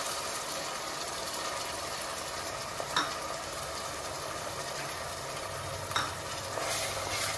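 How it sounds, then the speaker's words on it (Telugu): Masala paste for chicken curry frying in a pan, a steady close sizzle running throughout with occasional soft scrapes of stirring; no voices. "ఇది పేస్ట్ బాగా ఫ్రై అయిపోవాలండి"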